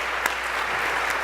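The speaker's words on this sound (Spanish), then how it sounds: "un aplauso para Julio y para Pablo." Audience applause closes a panel discussion at an executive education conference, a brief dense patter of clapping from the room with a couple of sharper claps.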